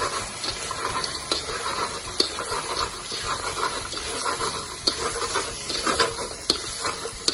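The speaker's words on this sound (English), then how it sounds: "now we're going to put the onions, peppers, coriander, scallions, yellow pepper, and the green pepper. So you have to mix everything now." Chicken lollipops for drums of heaven being stirred in a wok with onions, peppers, coriander and scallions: a steady sizzle and hiss with scraping and tossing clatter, loud and close throughout, no talking.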